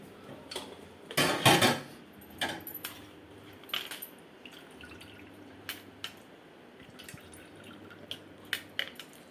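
Fresh mosambi (sweet lime) juice drips through a strainer, leaving the fibrous pulp behind, with scattered faint drops and small clinks over a quiet background and one louder splashy burst near the start.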